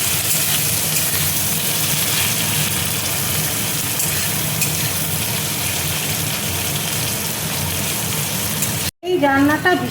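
Chopped onion and curry leaves fry in hot oil in a pan, giving a loud, continuous sizzle that holds steady for several seconds before a brief cut.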